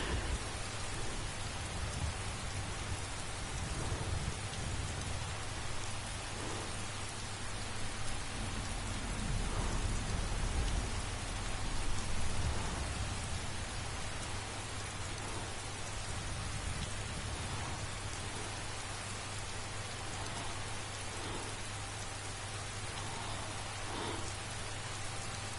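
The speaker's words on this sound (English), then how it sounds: "The sound of rain is very relaxing." Steady rain falls in the video game Skyrim on a PS4 Pro, a constant full hiss that runs unbroken for the whole stretch, with low rumbles swelling now and then beneath it.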